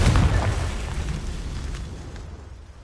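A Confringo spell explosion in a Hogwarts video game, a loud booming blast at the start that rumbles and fades away over a few seconds.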